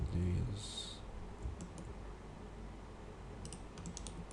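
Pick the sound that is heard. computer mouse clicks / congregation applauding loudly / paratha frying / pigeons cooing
computer mouse clicks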